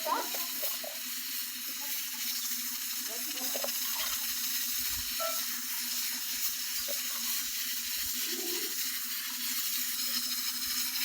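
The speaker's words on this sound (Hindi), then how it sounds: "2 से 3 मिनट तक भून लेंगे इसको" Masala for mutton kunna sizzling and frying steadily in a pan, a continuous close hiss with faint stirring scrapes and no talking.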